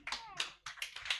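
Scattered claps from an audience at a university constitutional law moot court competition, a few sharp close hand strikes in quick bursts with brief gaps, quiet overall.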